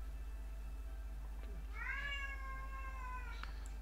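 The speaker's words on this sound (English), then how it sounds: "the cat's going at it again. I have a Bengal cat, so they like to vocalize a lot" A Bengal cat meowing indoors, one drawn-out meow with a couple of short chirps before and after, over a steady low electrical hum, no talking.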